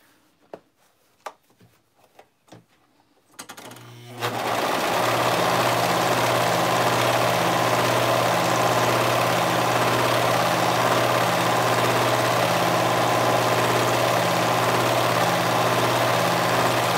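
After a few sharp taps and clicks, a sewing machine starts up and runs steadily, sewing a lettuce stitch on fabric with a continuous loud, even mechanical hum and rhythmic pulsing.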